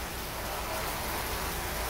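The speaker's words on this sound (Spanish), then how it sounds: "De hecho todavía está lloviendo" Heavy rain keeps falling in Havana after a violent electrical storm, a dense, even hiss of downpour that holds constant and fairly close, with no voices.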